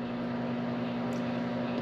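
A microwave oven runs inside a Winnebago Sightseer class A motor home, giving a steady low hum with an even wash of fan noise, close and unbroken.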